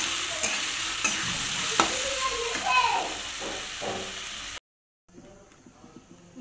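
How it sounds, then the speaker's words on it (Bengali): Potatoes fry in a pan with turmeric, salt and chopped green chilli, crackling and sizzling as a spatula scrapes and stirs, before the sound cuts out briefly and resumes faintly. "যে দেখো আলু ভাজি।"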